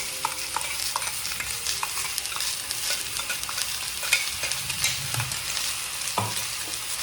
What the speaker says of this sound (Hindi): अब हम इसमें डालेंगे कि जो हमने पीसा था अदरक, लहसुन, टमाटर, हरी मिर्च का पेस्ट, ये हम इसमें इस तरह से सारा डाल देंगे।